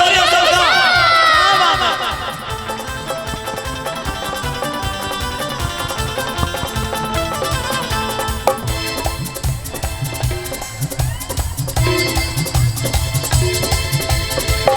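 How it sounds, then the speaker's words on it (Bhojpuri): A crowd at a live Sawan devotional music stage show cheers and shouts loudly at first, then music with drums and singing takes over while the crowd noise carries on underneath. "एक जोरदार ताली हो जाए सबका"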